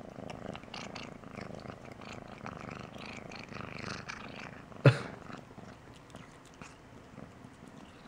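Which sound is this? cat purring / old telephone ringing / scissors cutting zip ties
cat purring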